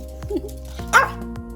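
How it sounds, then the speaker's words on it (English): A dog barks a couple of times late at night, close by, with short yips and a faint whimper between the barks. "You can't be out there late at night barking"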